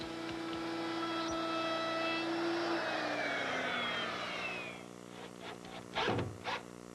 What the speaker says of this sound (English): Now I'm going to replace that 1/2 inch bit with a 1/4 inch radius quarter round and do the bottom edge of the top.